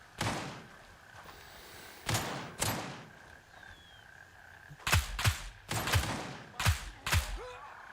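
Gunfire in the game Gray Zone Warfare, sharp, loud single reports with echoing tails: three spaced shots early, then a quicker cluster of about six, a pause mid-way carrying only low background noise.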